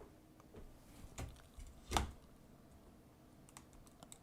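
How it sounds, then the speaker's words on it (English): Keys clicking on a Kinesis ergonomic keyboard while coding in Emacs, giving scattered light taps and one sharper, louder strike near the middle, close and alone without speech. "My thumb key is F9. On my Kinesis keyboard."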